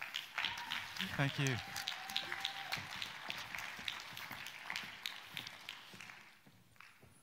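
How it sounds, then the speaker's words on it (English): Conference audience at a landscape talks session gives a round of applause for a speaker, a moderate clapping patter with some tapping and footsteps, and a brief spoken thanks near the start. "please, a big round of applause for John"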